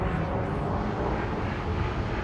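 Spaceship engines engaging in the space game Elite: Dangerous produce a loud, steady, broadband roar that holds without a break and has no speech over it.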